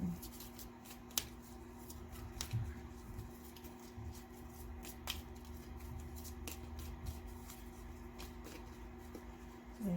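Quiet, steady rustle of tarot cards being shuffled, with occasional soft snaps and flicks over a low background hum.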